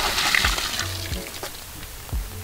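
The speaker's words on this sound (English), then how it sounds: "Look how much rain is coming off this awning. It's just absolutely pouring down." Heavy rain pours off a van awning in a dense, steady splashing rush, with water streaming and spattering close by and no voices.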